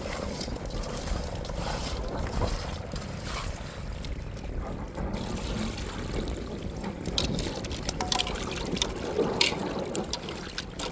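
Water splashes and sloshes continuously up close, with scattered trickles and rubbing sounds, as fish is washed and rubbed by hand in a basin.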